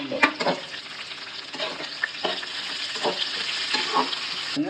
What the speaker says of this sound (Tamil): 2 ஊற்று கருவேப்பிலை, அது எண்ணெயிலேயே போட்டுருங்க.